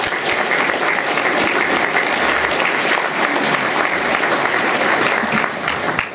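A live audience applauds in a sustained, dense burst of clapping welcoming speaker David Stockman at a political talk, steady and loud throughout before tapering at the end.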